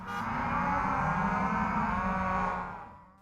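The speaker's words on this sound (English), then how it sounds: "When it comes time to feed this prized Angus herd, a simple tap of the truck horn gets an immediate response." An Angus cattle herd at feeding time lets out a long, loud, continuous mooing chorus of many overlapping low calls, close by and steady before fading at the end.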